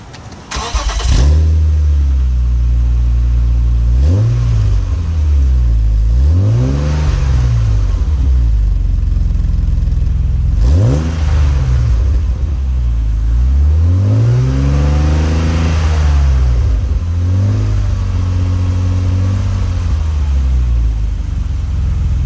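A 1997 BMW Z3 starts and revs repeatedly through a homemade twin-loop cat-back exhaust, the note rising and falling in several loud throttle blips over a deep idling rumble.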